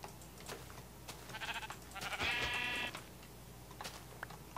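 Sheep bleat in a block-building video game, one wavering cry in the middle standing out over faint background clicks and tapping, like a keyboard, with no talk.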